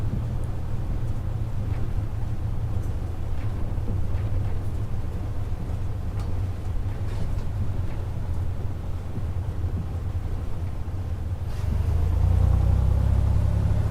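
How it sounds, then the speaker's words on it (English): A2A Cessna C182 Skylane in a flight simulator game rolls out after landing, its engine a steady low idling drone with a faint rumble that swells louder near the end; no talking. "So just let the aircraft slow down naturally."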